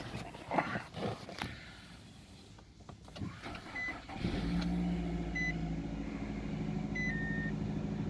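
A car engine starts for the first time after radiator work, catching partway through and settling into a steady low idle. Clicks and rustling come before it, and small electronic beeps sound over the running engine.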